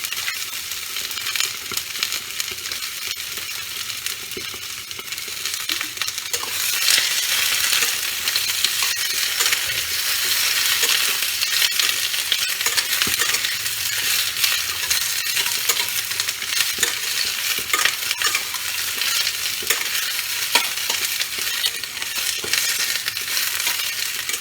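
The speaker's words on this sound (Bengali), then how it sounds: "এবার এতে আমি পেঁয়াজ কলিগুলো ছেড়ে দিলাম।" Spring onion stalks fry in fish oil in a pan while being stirred for a spicy tyangra fish curry, giving a steady, dense sizzle that swells after a few seconds, with frequent scraping and clinking of the spatula throughout.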